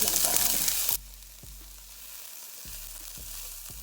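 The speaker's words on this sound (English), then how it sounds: "I'm going to add about a tablespoon of grapeseed oil to my skillet here, and we're just going to let that saute until they're softened and golden brown" Onions sauté in a tablespoon of grapeseed oil in a skillet, with a loud, bright sizzle for about a second that then drops to a faint, steady frying hiss broken by soft periodic clicks.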